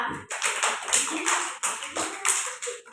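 Hands clap together in quick, uneven bursts as a small group of children applaud in a classroom, loud and close with no talking.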